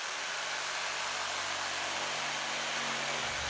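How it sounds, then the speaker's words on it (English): A jigsaw cuts through a wooden gate board, giving a steady, close, buzzing whine that holds evenly for a few seconds with no talking. "I'm just going to take the jigsaw"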